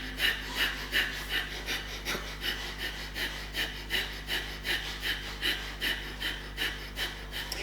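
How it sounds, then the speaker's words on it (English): Brisk rhythmic breathing during a yoga breathing exercise, sharp forceful exhalations repeating at an even quick pace, about two per second, close and clear with no talk. "Now keep breathing briskly."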